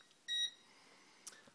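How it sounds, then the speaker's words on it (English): A single short electronic beep, a low voltage pre-alarm from an inverter on a bike generator, fairly loud in a quiet room, followed by faint small clicks. "got low voltage pre-alarm."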